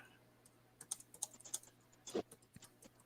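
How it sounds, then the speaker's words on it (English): Fingers type on a computer keyboard in a quiet room, a quick run of soft, irregular clicks with one louder key thump near the end and no talking. "But I imagine Ghost is typing it"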